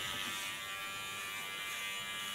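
Steady high-pitched buzz of an electric hair clipper held on its blade tip while cutting a contour line on an ultra-short haircut, continuous and close, with no talking.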